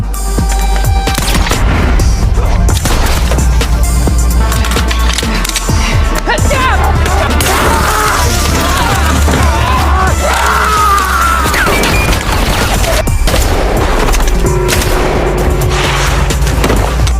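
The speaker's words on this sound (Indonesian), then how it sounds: "Cat yang lebih cerdik berhasil menembak dari lubang kecil" Gunfire in a shootout from an action film about a hired killer seeking revenge, with loud booms and crashes running dense and continuous under music, shouting and dialogue.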